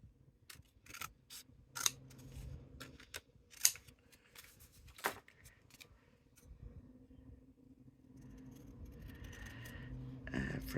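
Paper template being cut with scissors, a series of sharp snips at an uneven pace, quiet and close, with light rustling of paper between cuts.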